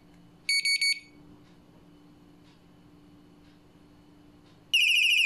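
An Antusi A8 bike taillight alarm sounds in its loudest mode, giving a short piercing shrill burst near the start and another at the end, with quiet room noise in between.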